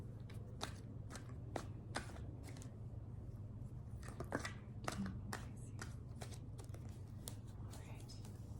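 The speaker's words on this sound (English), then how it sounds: "Few more shuffles." Quiet, intermittent riffling and soft slaps of a tarot deck being shuffled, in irregular bursts over a low hum.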